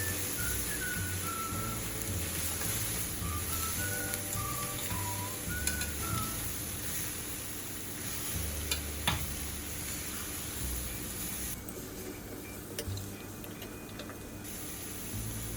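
Cumin and ground spices fry in a pan for a vegan Indian-style pumpkin curry, a steady soft sizzle with occasional light clicks and scrapes of stirring throughout.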